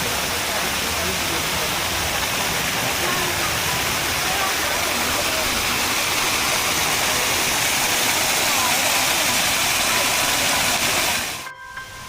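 Steady, roaring rush of the Pha Lat waterfall at Wat Pha Lat, Chiang Mai, fills the scene at constant loudness, with faint voices underneath, then cuts off abruptly near the end.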